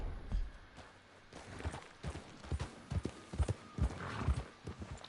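Horse hooves clip-clop along at a trot in the Red Dead Redemption video game, with an irregular run of low thuds and an occasional whinny, fairly close and steady.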